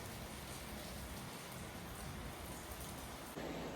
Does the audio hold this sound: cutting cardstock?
no